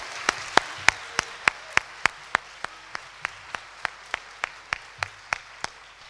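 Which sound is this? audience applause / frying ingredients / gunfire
audience applause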